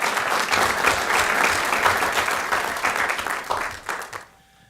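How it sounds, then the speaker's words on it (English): A room full of people applauds at a city council meeting in North Augusta, dense steady clapping that stays loud for several seconds, then thins and stops abruptly. "Let's give a round of applause"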